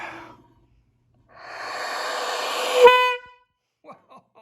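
A loud, droning blast from an old collectible horn swells for about two seconds and cuts off abruptly, followed by a few faint clicks.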